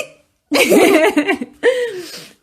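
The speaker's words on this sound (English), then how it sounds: "How do hiccups sound?" Two loud, close hiccups, each a sharp voiced burst with a brief throaty tail, split by a short silence.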